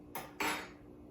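A Harvey Wallbanger cocktail with Galliano is stirred with a spoon, giving two short, close metallic clinks against the glass in quick succession, with no talk.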